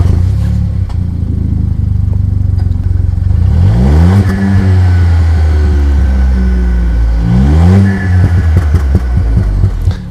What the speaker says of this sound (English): So a few pops and bangs, that sounds really good